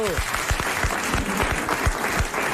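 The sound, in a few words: studio audience applauding a game show winner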